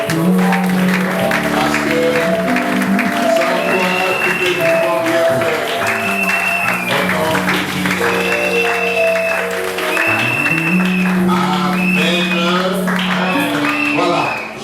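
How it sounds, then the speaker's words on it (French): A church congregation claps and cheers loudly during a prayer service, continuous applause mixed with crowd voices and music-like tones throughout. "pour activer encore nos voix, nous acclamons très fort"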